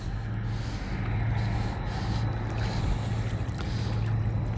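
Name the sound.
barge cruising on the river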